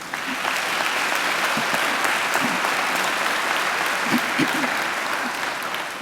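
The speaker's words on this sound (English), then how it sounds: "I think they deserve a great round of applause too." A large audience at a university graduation ceremony claps loudly and continuously for six seconds, a dense even roar of hands with a few scattered whoops rising above it.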